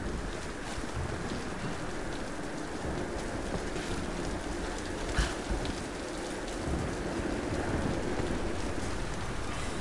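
Steady rain pouring in the Tomb Raider (2013) video game, a dense continuous hiss with low rumbling underneath and a faint crack midway, even and fairly quiet throughout.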